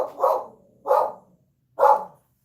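A dog barks three times in separate loud, close bursts, with short pauses between them in an otherwise quiet room.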